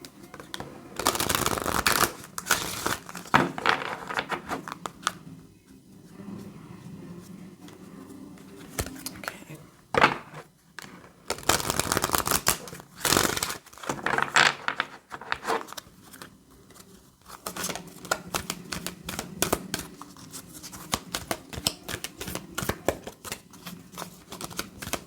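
Tarot cards being shuffled in quick riffling bursts with pauses between them, close and fairly quiet, with a voice speaking softly at times.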